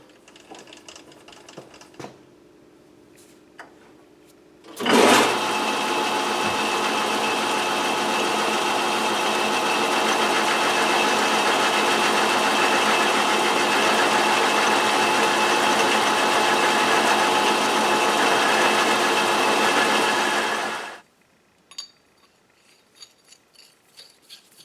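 A South Bend 11-inch lathe turning down the end of a tailstock part: the motor starts abruptly and runs with a steady, loud mechanical whir for about sixteen seconds, then stops, leaving quiet shop sounds.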